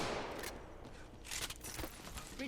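Gunfire from weapons in the battle-royale game Apex Legends: a loud, dense flurry of shots that stays busy and crackling for the full stretch, with a sharp burst near the middle.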